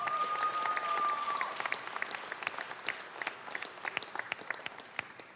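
Press conference audience applauding sponsors: a fairly distant, moderate burst of many hands clapping that thins into scattered individual claps as it fades.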